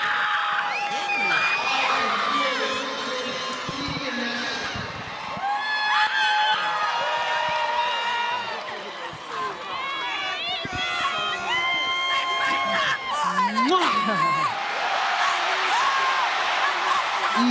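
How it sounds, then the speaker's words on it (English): A large crowd at a boxing match roars and cheers after a win, with whoops and shouts swelling and falling throughout, mixed with voices talking over the noise. "listen to the crowd"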